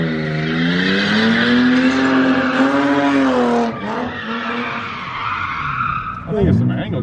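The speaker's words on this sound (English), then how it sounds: "Oh yeah, he's fuel cutting hard." A BMW E36 with a welded differential screams at high revs, its engine bouncing off the fuel-cut rev limiter while the tires squeal, loud and close. The tone wavers and then breaks into rougher bursts near the end.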